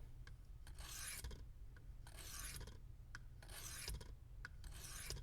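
A cheap pocket knife is drawn back and forth through a tilting pull-through sharpener, giving four loud, gritty rasping strokes at a steady rhythm, with faint clicks between them and no talking.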